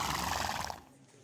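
A horse whinnies for about a second, fairly loud and close, then the sound tails off into quiet.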